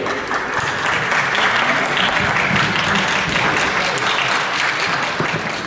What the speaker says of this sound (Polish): Brawa jeszcze raz dla zawodników.